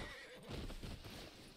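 A horse neighs with a shaky whinny in a hunting video game, moderately faint, with soft hoof clip-clops mixed in and no talking.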